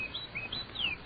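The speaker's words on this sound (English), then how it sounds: "The birds is going about their business all right." Birds chirp as a radio drama sound effect: several thin, quick high tweets scattered across a second, faint and somewhat lo-fi, with no talking.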